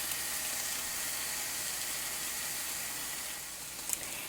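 Pork chops searing in a hot pan, a steady loud broadband sizzle that holds evenly throughout, with a brief sharp crackle near the end.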